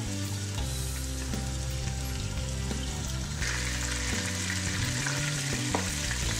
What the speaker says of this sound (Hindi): ये देखिए चिकन बहुत अच्छी तरह से ये फ्राई हो गया